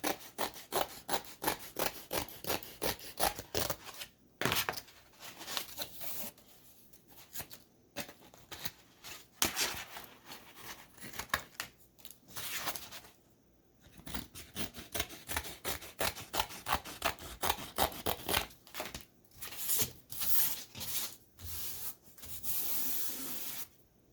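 Scissors cutting heat transfer vinyl for a reverse canvas craft, heard as a close, steady run of rasping snips and rubbing cuts with short pauses, continuing for over twenty seconds without talk.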